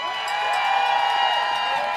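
Large crowd at the We the People March for Democracy rally in Waco cheering and whooping, a dense, sustained roar with high whistles and shouts mixed in.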